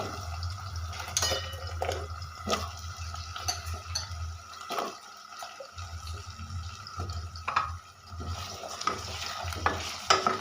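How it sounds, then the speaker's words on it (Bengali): Cut potatoes are tossed into a pan of fried onions and stirred, giving uneven scraping strokes over a soft sizzle that briefly drops away mid-way before resuming. "কেটে রাখা আলু দিয়ে দেবো"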